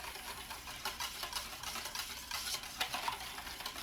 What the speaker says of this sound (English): So I'm just whisking it to keep it smooth, even out the temperatures.